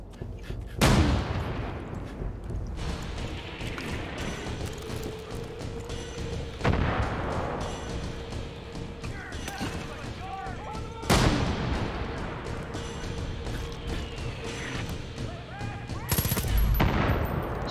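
Gunfire in Far Cry 5 on an arcade map called Butcher Island: sharp shots punctuate a steady, dense roar of combat, with heavier blasts near the one, seven, eleven and sixteen second marks.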